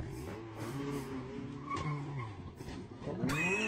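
A rally car skids through a stage with tires squealing and the engine revving and shifting, the sound carrying from a played rally clip and swelling into a sharp squeal near the end.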